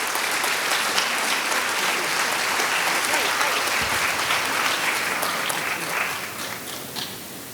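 An audience at a Biloxi Sports Hall of Fame induction ceremony breaks into steady, dense applause that fills the hall, sustained throughout before easing slightly at the end.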